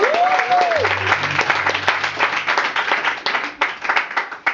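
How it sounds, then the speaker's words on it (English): Audience at a Jay Nash living-room gig in Niederkassel applauds in a dense, steady burst that fills the whole stretch, with a brief whistle-like tone near the start and a low hum beneath. "Will you guys give a huge round of applause?"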